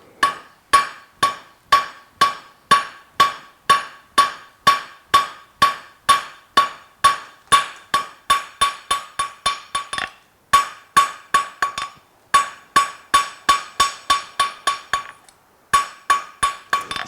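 Hot steel being drawn out to a fine point by hammer blows on an anvil at a blacksmith's forge, a steady run of sharp, ringing metallic strikes about two per second, close and loud, with two short pauses.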